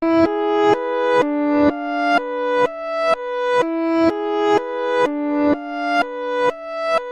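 A melodic loop of reversed slices, each note swelling up and cutting off sharply in a steady, pulsing rhythm, played alone and fairly loud.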